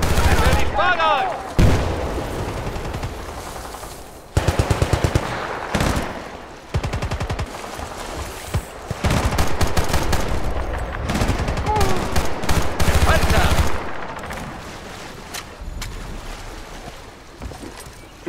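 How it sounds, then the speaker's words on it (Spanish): Rapid machine-gun bursts and gunfire crackle through a Battlefield Bad Company 2 firefight, loud and repeated in clusters with short gaps, over a rumbling, water-tinged background and shouted voices. "¡Granada! ¡Están por aquí! ¡Se disparan!"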